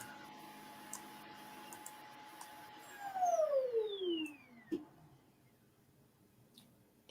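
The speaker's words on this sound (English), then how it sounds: "It's the carpet cleaner." An indoor carpet cleaner hums faintly, then its motor winds down with a falling whine that fades, ending with a few faint clicks and a sharp knock at the very end.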